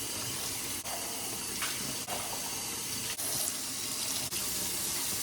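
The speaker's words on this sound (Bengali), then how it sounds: "তো আমি আবার সব কিছু ধোয়ার পর সিঙ্কটা ভালো করে ধুয়ে" Kitchen tap running steadily into a sink being washed, a constant close rush of water with brief dips as the flow is interrupted.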